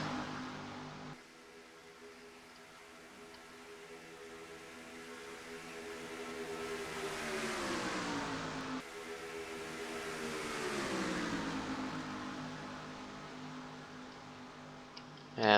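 Race cars in an oval racing video game at Daytona roar past with a steady engine drone, pitch sweeping up and down as cars pass close by, loud and continuous with no talk.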